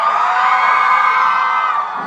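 A dense crowd of fans at a gala premiere of the series Bunga Di Tepi Jurang shouts and cheers continuously, a loud, sustained roar of whoops and high-pitched yells with no pause.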